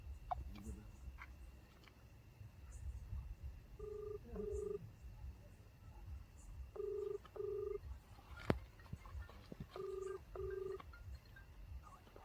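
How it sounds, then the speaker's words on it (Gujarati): A telephone call is placed, with three spaced pairs of electronic ringing tones sounding faintly and evenly in a quiet room, along with low murmuring voices and a single sharp click. "બે ઓલા ભેરુને ફોન કરું."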